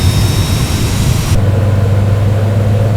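The number 2 jet engine of a Citation X starts up in Microsoft Flight Simulator, a loud rushing whine with a thin high tone that cuts off partway, leaving a steady low engine hum.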